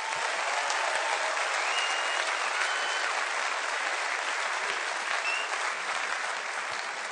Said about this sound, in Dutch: Laten we die ook gewoon nog even één keer een hard applaus geven